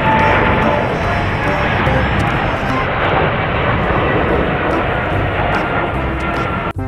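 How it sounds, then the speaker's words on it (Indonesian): Loud, steady broadband roar of a passing airplane, continuous and close for several seconds, cutting off abruptly at the end. "Wohoho, pesawat terbang."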